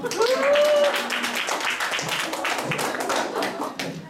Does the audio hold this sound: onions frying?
no